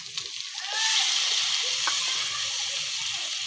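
Chopped onions, tomatoes, ginger and garlic frying together in a pan for egg curry, a loud, steady, hissing sizzle that swells after the first second and holds, with a brief clink.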